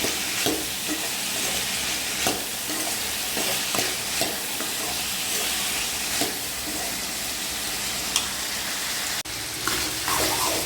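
Snake gourd fries in oil with tamarind and turmeric, a steady close sizzle with occasional stirring scrapes and clinks throughout.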